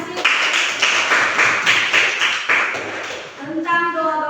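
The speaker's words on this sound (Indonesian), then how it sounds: "beri tepuk tangan kasih" Audience clapping at a university gathering in Ambon, a fairly loud, steady burst of many hands that fades after about three seconds as a voice begins speaking.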